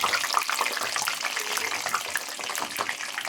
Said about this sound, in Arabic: بصي شكل البطاطس كده، شايفين محمرة وشكلها عسل ومقرمشة. شايفين سامعين الصوت كده